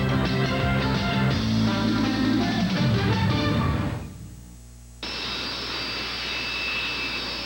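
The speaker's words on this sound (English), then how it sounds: "That's Doug Rose's Green Mamba jet car, heating the crowd up at Lebanon Valley Speedway" Doug Rose's Green Mamba jet car roaring at Lebanon Valley Speedway, a loud close jet engine howl that drops off abruptly, then a steadier high whine resumes.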